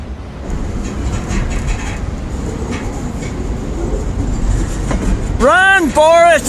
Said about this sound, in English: waiting for that train to go by